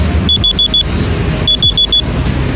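An alarm on a Uwinfly T3 electric motorbike gives two loud bursts of four rapid, high beeps, with a short pause between the bursts.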